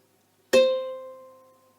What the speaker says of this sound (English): This is fretted C,